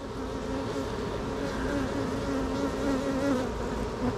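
Dense honey bees droning steadily from an open hive as frames are slowly shifted, a continuous close-up buzz with no talking.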